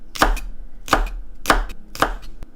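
A knife chops ramen ingredients on a cutting board in four loud, evenly spaced thunks, each with a short woody ring, plus a lighter tap at the end.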